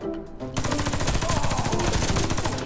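Rapid automatic fire from an M4 CQB rifle in the video game Warface bursts out after a brief pause and continues steadily, loud and close, in a continuous rattling stream.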